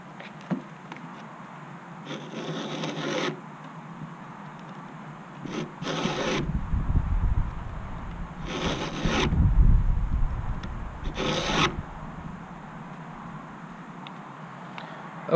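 A chainsaw chain's cutters being hand-filed with a Stihl 2-in-1 sharpener, giving soft, close rasping strokes in short bursts separated by quiet pauses.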